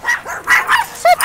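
Dog barking up close in a quick series of short, loud barks and yips, with a higher whine-like yelp near the end.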